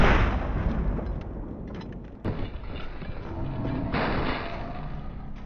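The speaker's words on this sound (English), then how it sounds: "Gunshots, sword slices, death noises, they all seem to activate like a second after you see them on screen." Gunfire and sword combat in the pirate-era action game Assassin's Creed IV Black Flag, with dense, loud bursts of shots and clashing impacts, a sharp crack near the middle, and a continuous rumbling din throughout.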